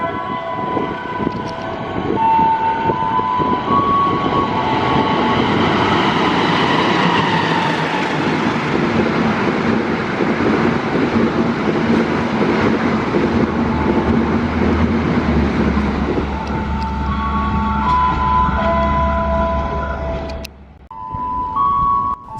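A long passenger train of 13 cars rolls past at close range, a steady loud rumble with rail clatter and tonal horn-like whines, fading near the end.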